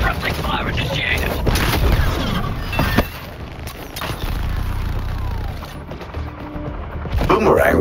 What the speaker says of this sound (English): Suppressing fire initiated.